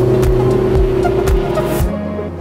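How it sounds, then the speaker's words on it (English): A big boat engine at full throttle on a pike fishing outing, a loud, steady low roar with a sustained droning tone and rhythmic pulsing surges, cutting off sharply near the end. "There's just something with big boats and big engines."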